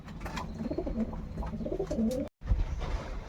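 Pigeons cooing close by in a soft, repeated, throaty rhythm, with several birds overlapping and a brief dropout before the cooing resumes.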